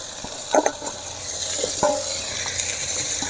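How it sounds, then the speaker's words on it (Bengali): Garam masala fries in a pan with tomato, green chili, chili powder and coconut, sizzling steadily and loudly up close while a spoon scrapes and stirs in a few short clatters. "গরম মশলা ভালো করে ভেজে নেব।"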